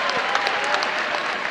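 Dense, steady applause from an assembled audience, fairly loud and unbroken for a second and a half, with no talking over it.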